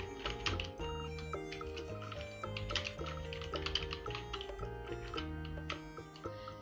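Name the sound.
typing on a computer keyboard in MS Word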